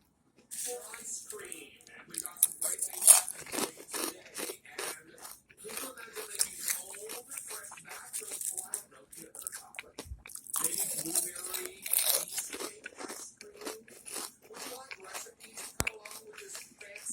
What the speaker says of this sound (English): Wow, some spicy chips, kale chips here.